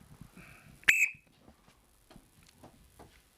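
A whistle blown to start a timed attempt gives one short, shrill blast near the start, standing out above quiet background murmur and light thuds.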